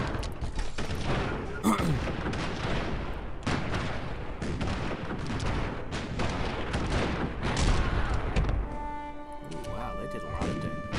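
Tanks attacking in battle in the video game Civilization 4, a dense and continuous barrage of booming cannon and gunfire with crashes and explosions running throughout, loud and chaotic, settling toward a ringing tail at the end.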